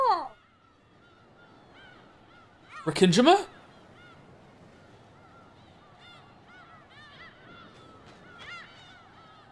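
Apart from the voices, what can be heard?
seagull sound effect in the video game Pragmata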